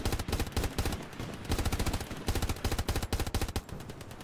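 Rapid bursts of machine gun fire in the World War II shooter Hell Let Loose, loud and close, rattling in quick repeated volleys with brief gaps between them.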